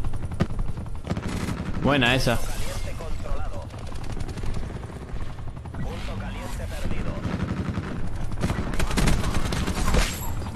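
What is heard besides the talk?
helicopter firing in the video game Black Ops 4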